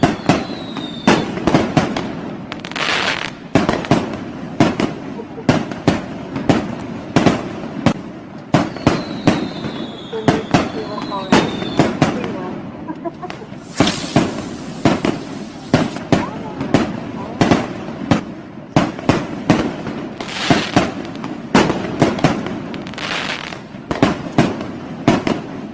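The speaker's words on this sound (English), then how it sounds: "Love me some fireworks." A fireworks display goes off with rapid bursts of loud bangs and crackles for almost half a minute, along with occasional whistling rockets and some voices cheering and talking in the background.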